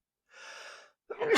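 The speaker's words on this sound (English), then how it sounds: "I'm going to sneeze." One person sneezes: a soft drawn-in breath, a brief pause, then a sharp, loud, explosive burst close up.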